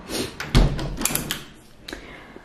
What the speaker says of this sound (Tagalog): teka lang, i-close ko muna yung pintuan